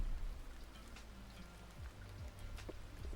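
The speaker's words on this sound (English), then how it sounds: "turn down the rain and thunder." Rain ambience soundtrack with thunder playing quietly in the background, a low steady wash of falling rain and scattered drips, faint and uninterrupted by speech.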